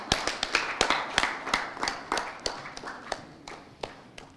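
An audience at a World Contraception Day event claps, giving irregular sharp hand claps from a small group at moderate volume that slowly thin out.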